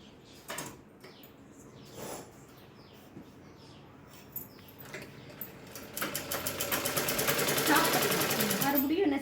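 A sewing machine stitches a folded blouse sleeve, starting with short separate bursts and then running into a fast, steady rattling stitch that grows louder toward the end, with a person talking quietly nearby.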